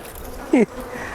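Wild-caught honeybees buzz during a hive inspection, with one brief, loud, close buzz sweeping past over a quiet background hum.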